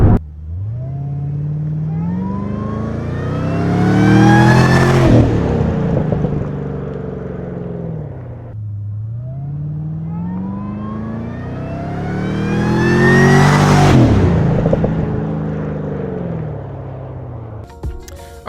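A Camaro ZL1 fitted with a Rotofab intake revs twice outdoors, each rev climbing steadily to a loud, roaring peak and then dropping back to a rumbling idle, the two sweeps spaced evenly about eight seconds apart.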